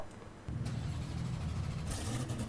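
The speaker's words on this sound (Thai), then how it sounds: "โอเคมากเลยนะเสียงสตาร์ทเครื่องนะครับ" In the Roblox game Driving Empire, a 2025 Hennessey F5-M Roadster engine cranks and catches after a brief quiet moment, then settles into a steady, low, rumbling idle with a brighter burst near the end. The sound is close and there is no speech.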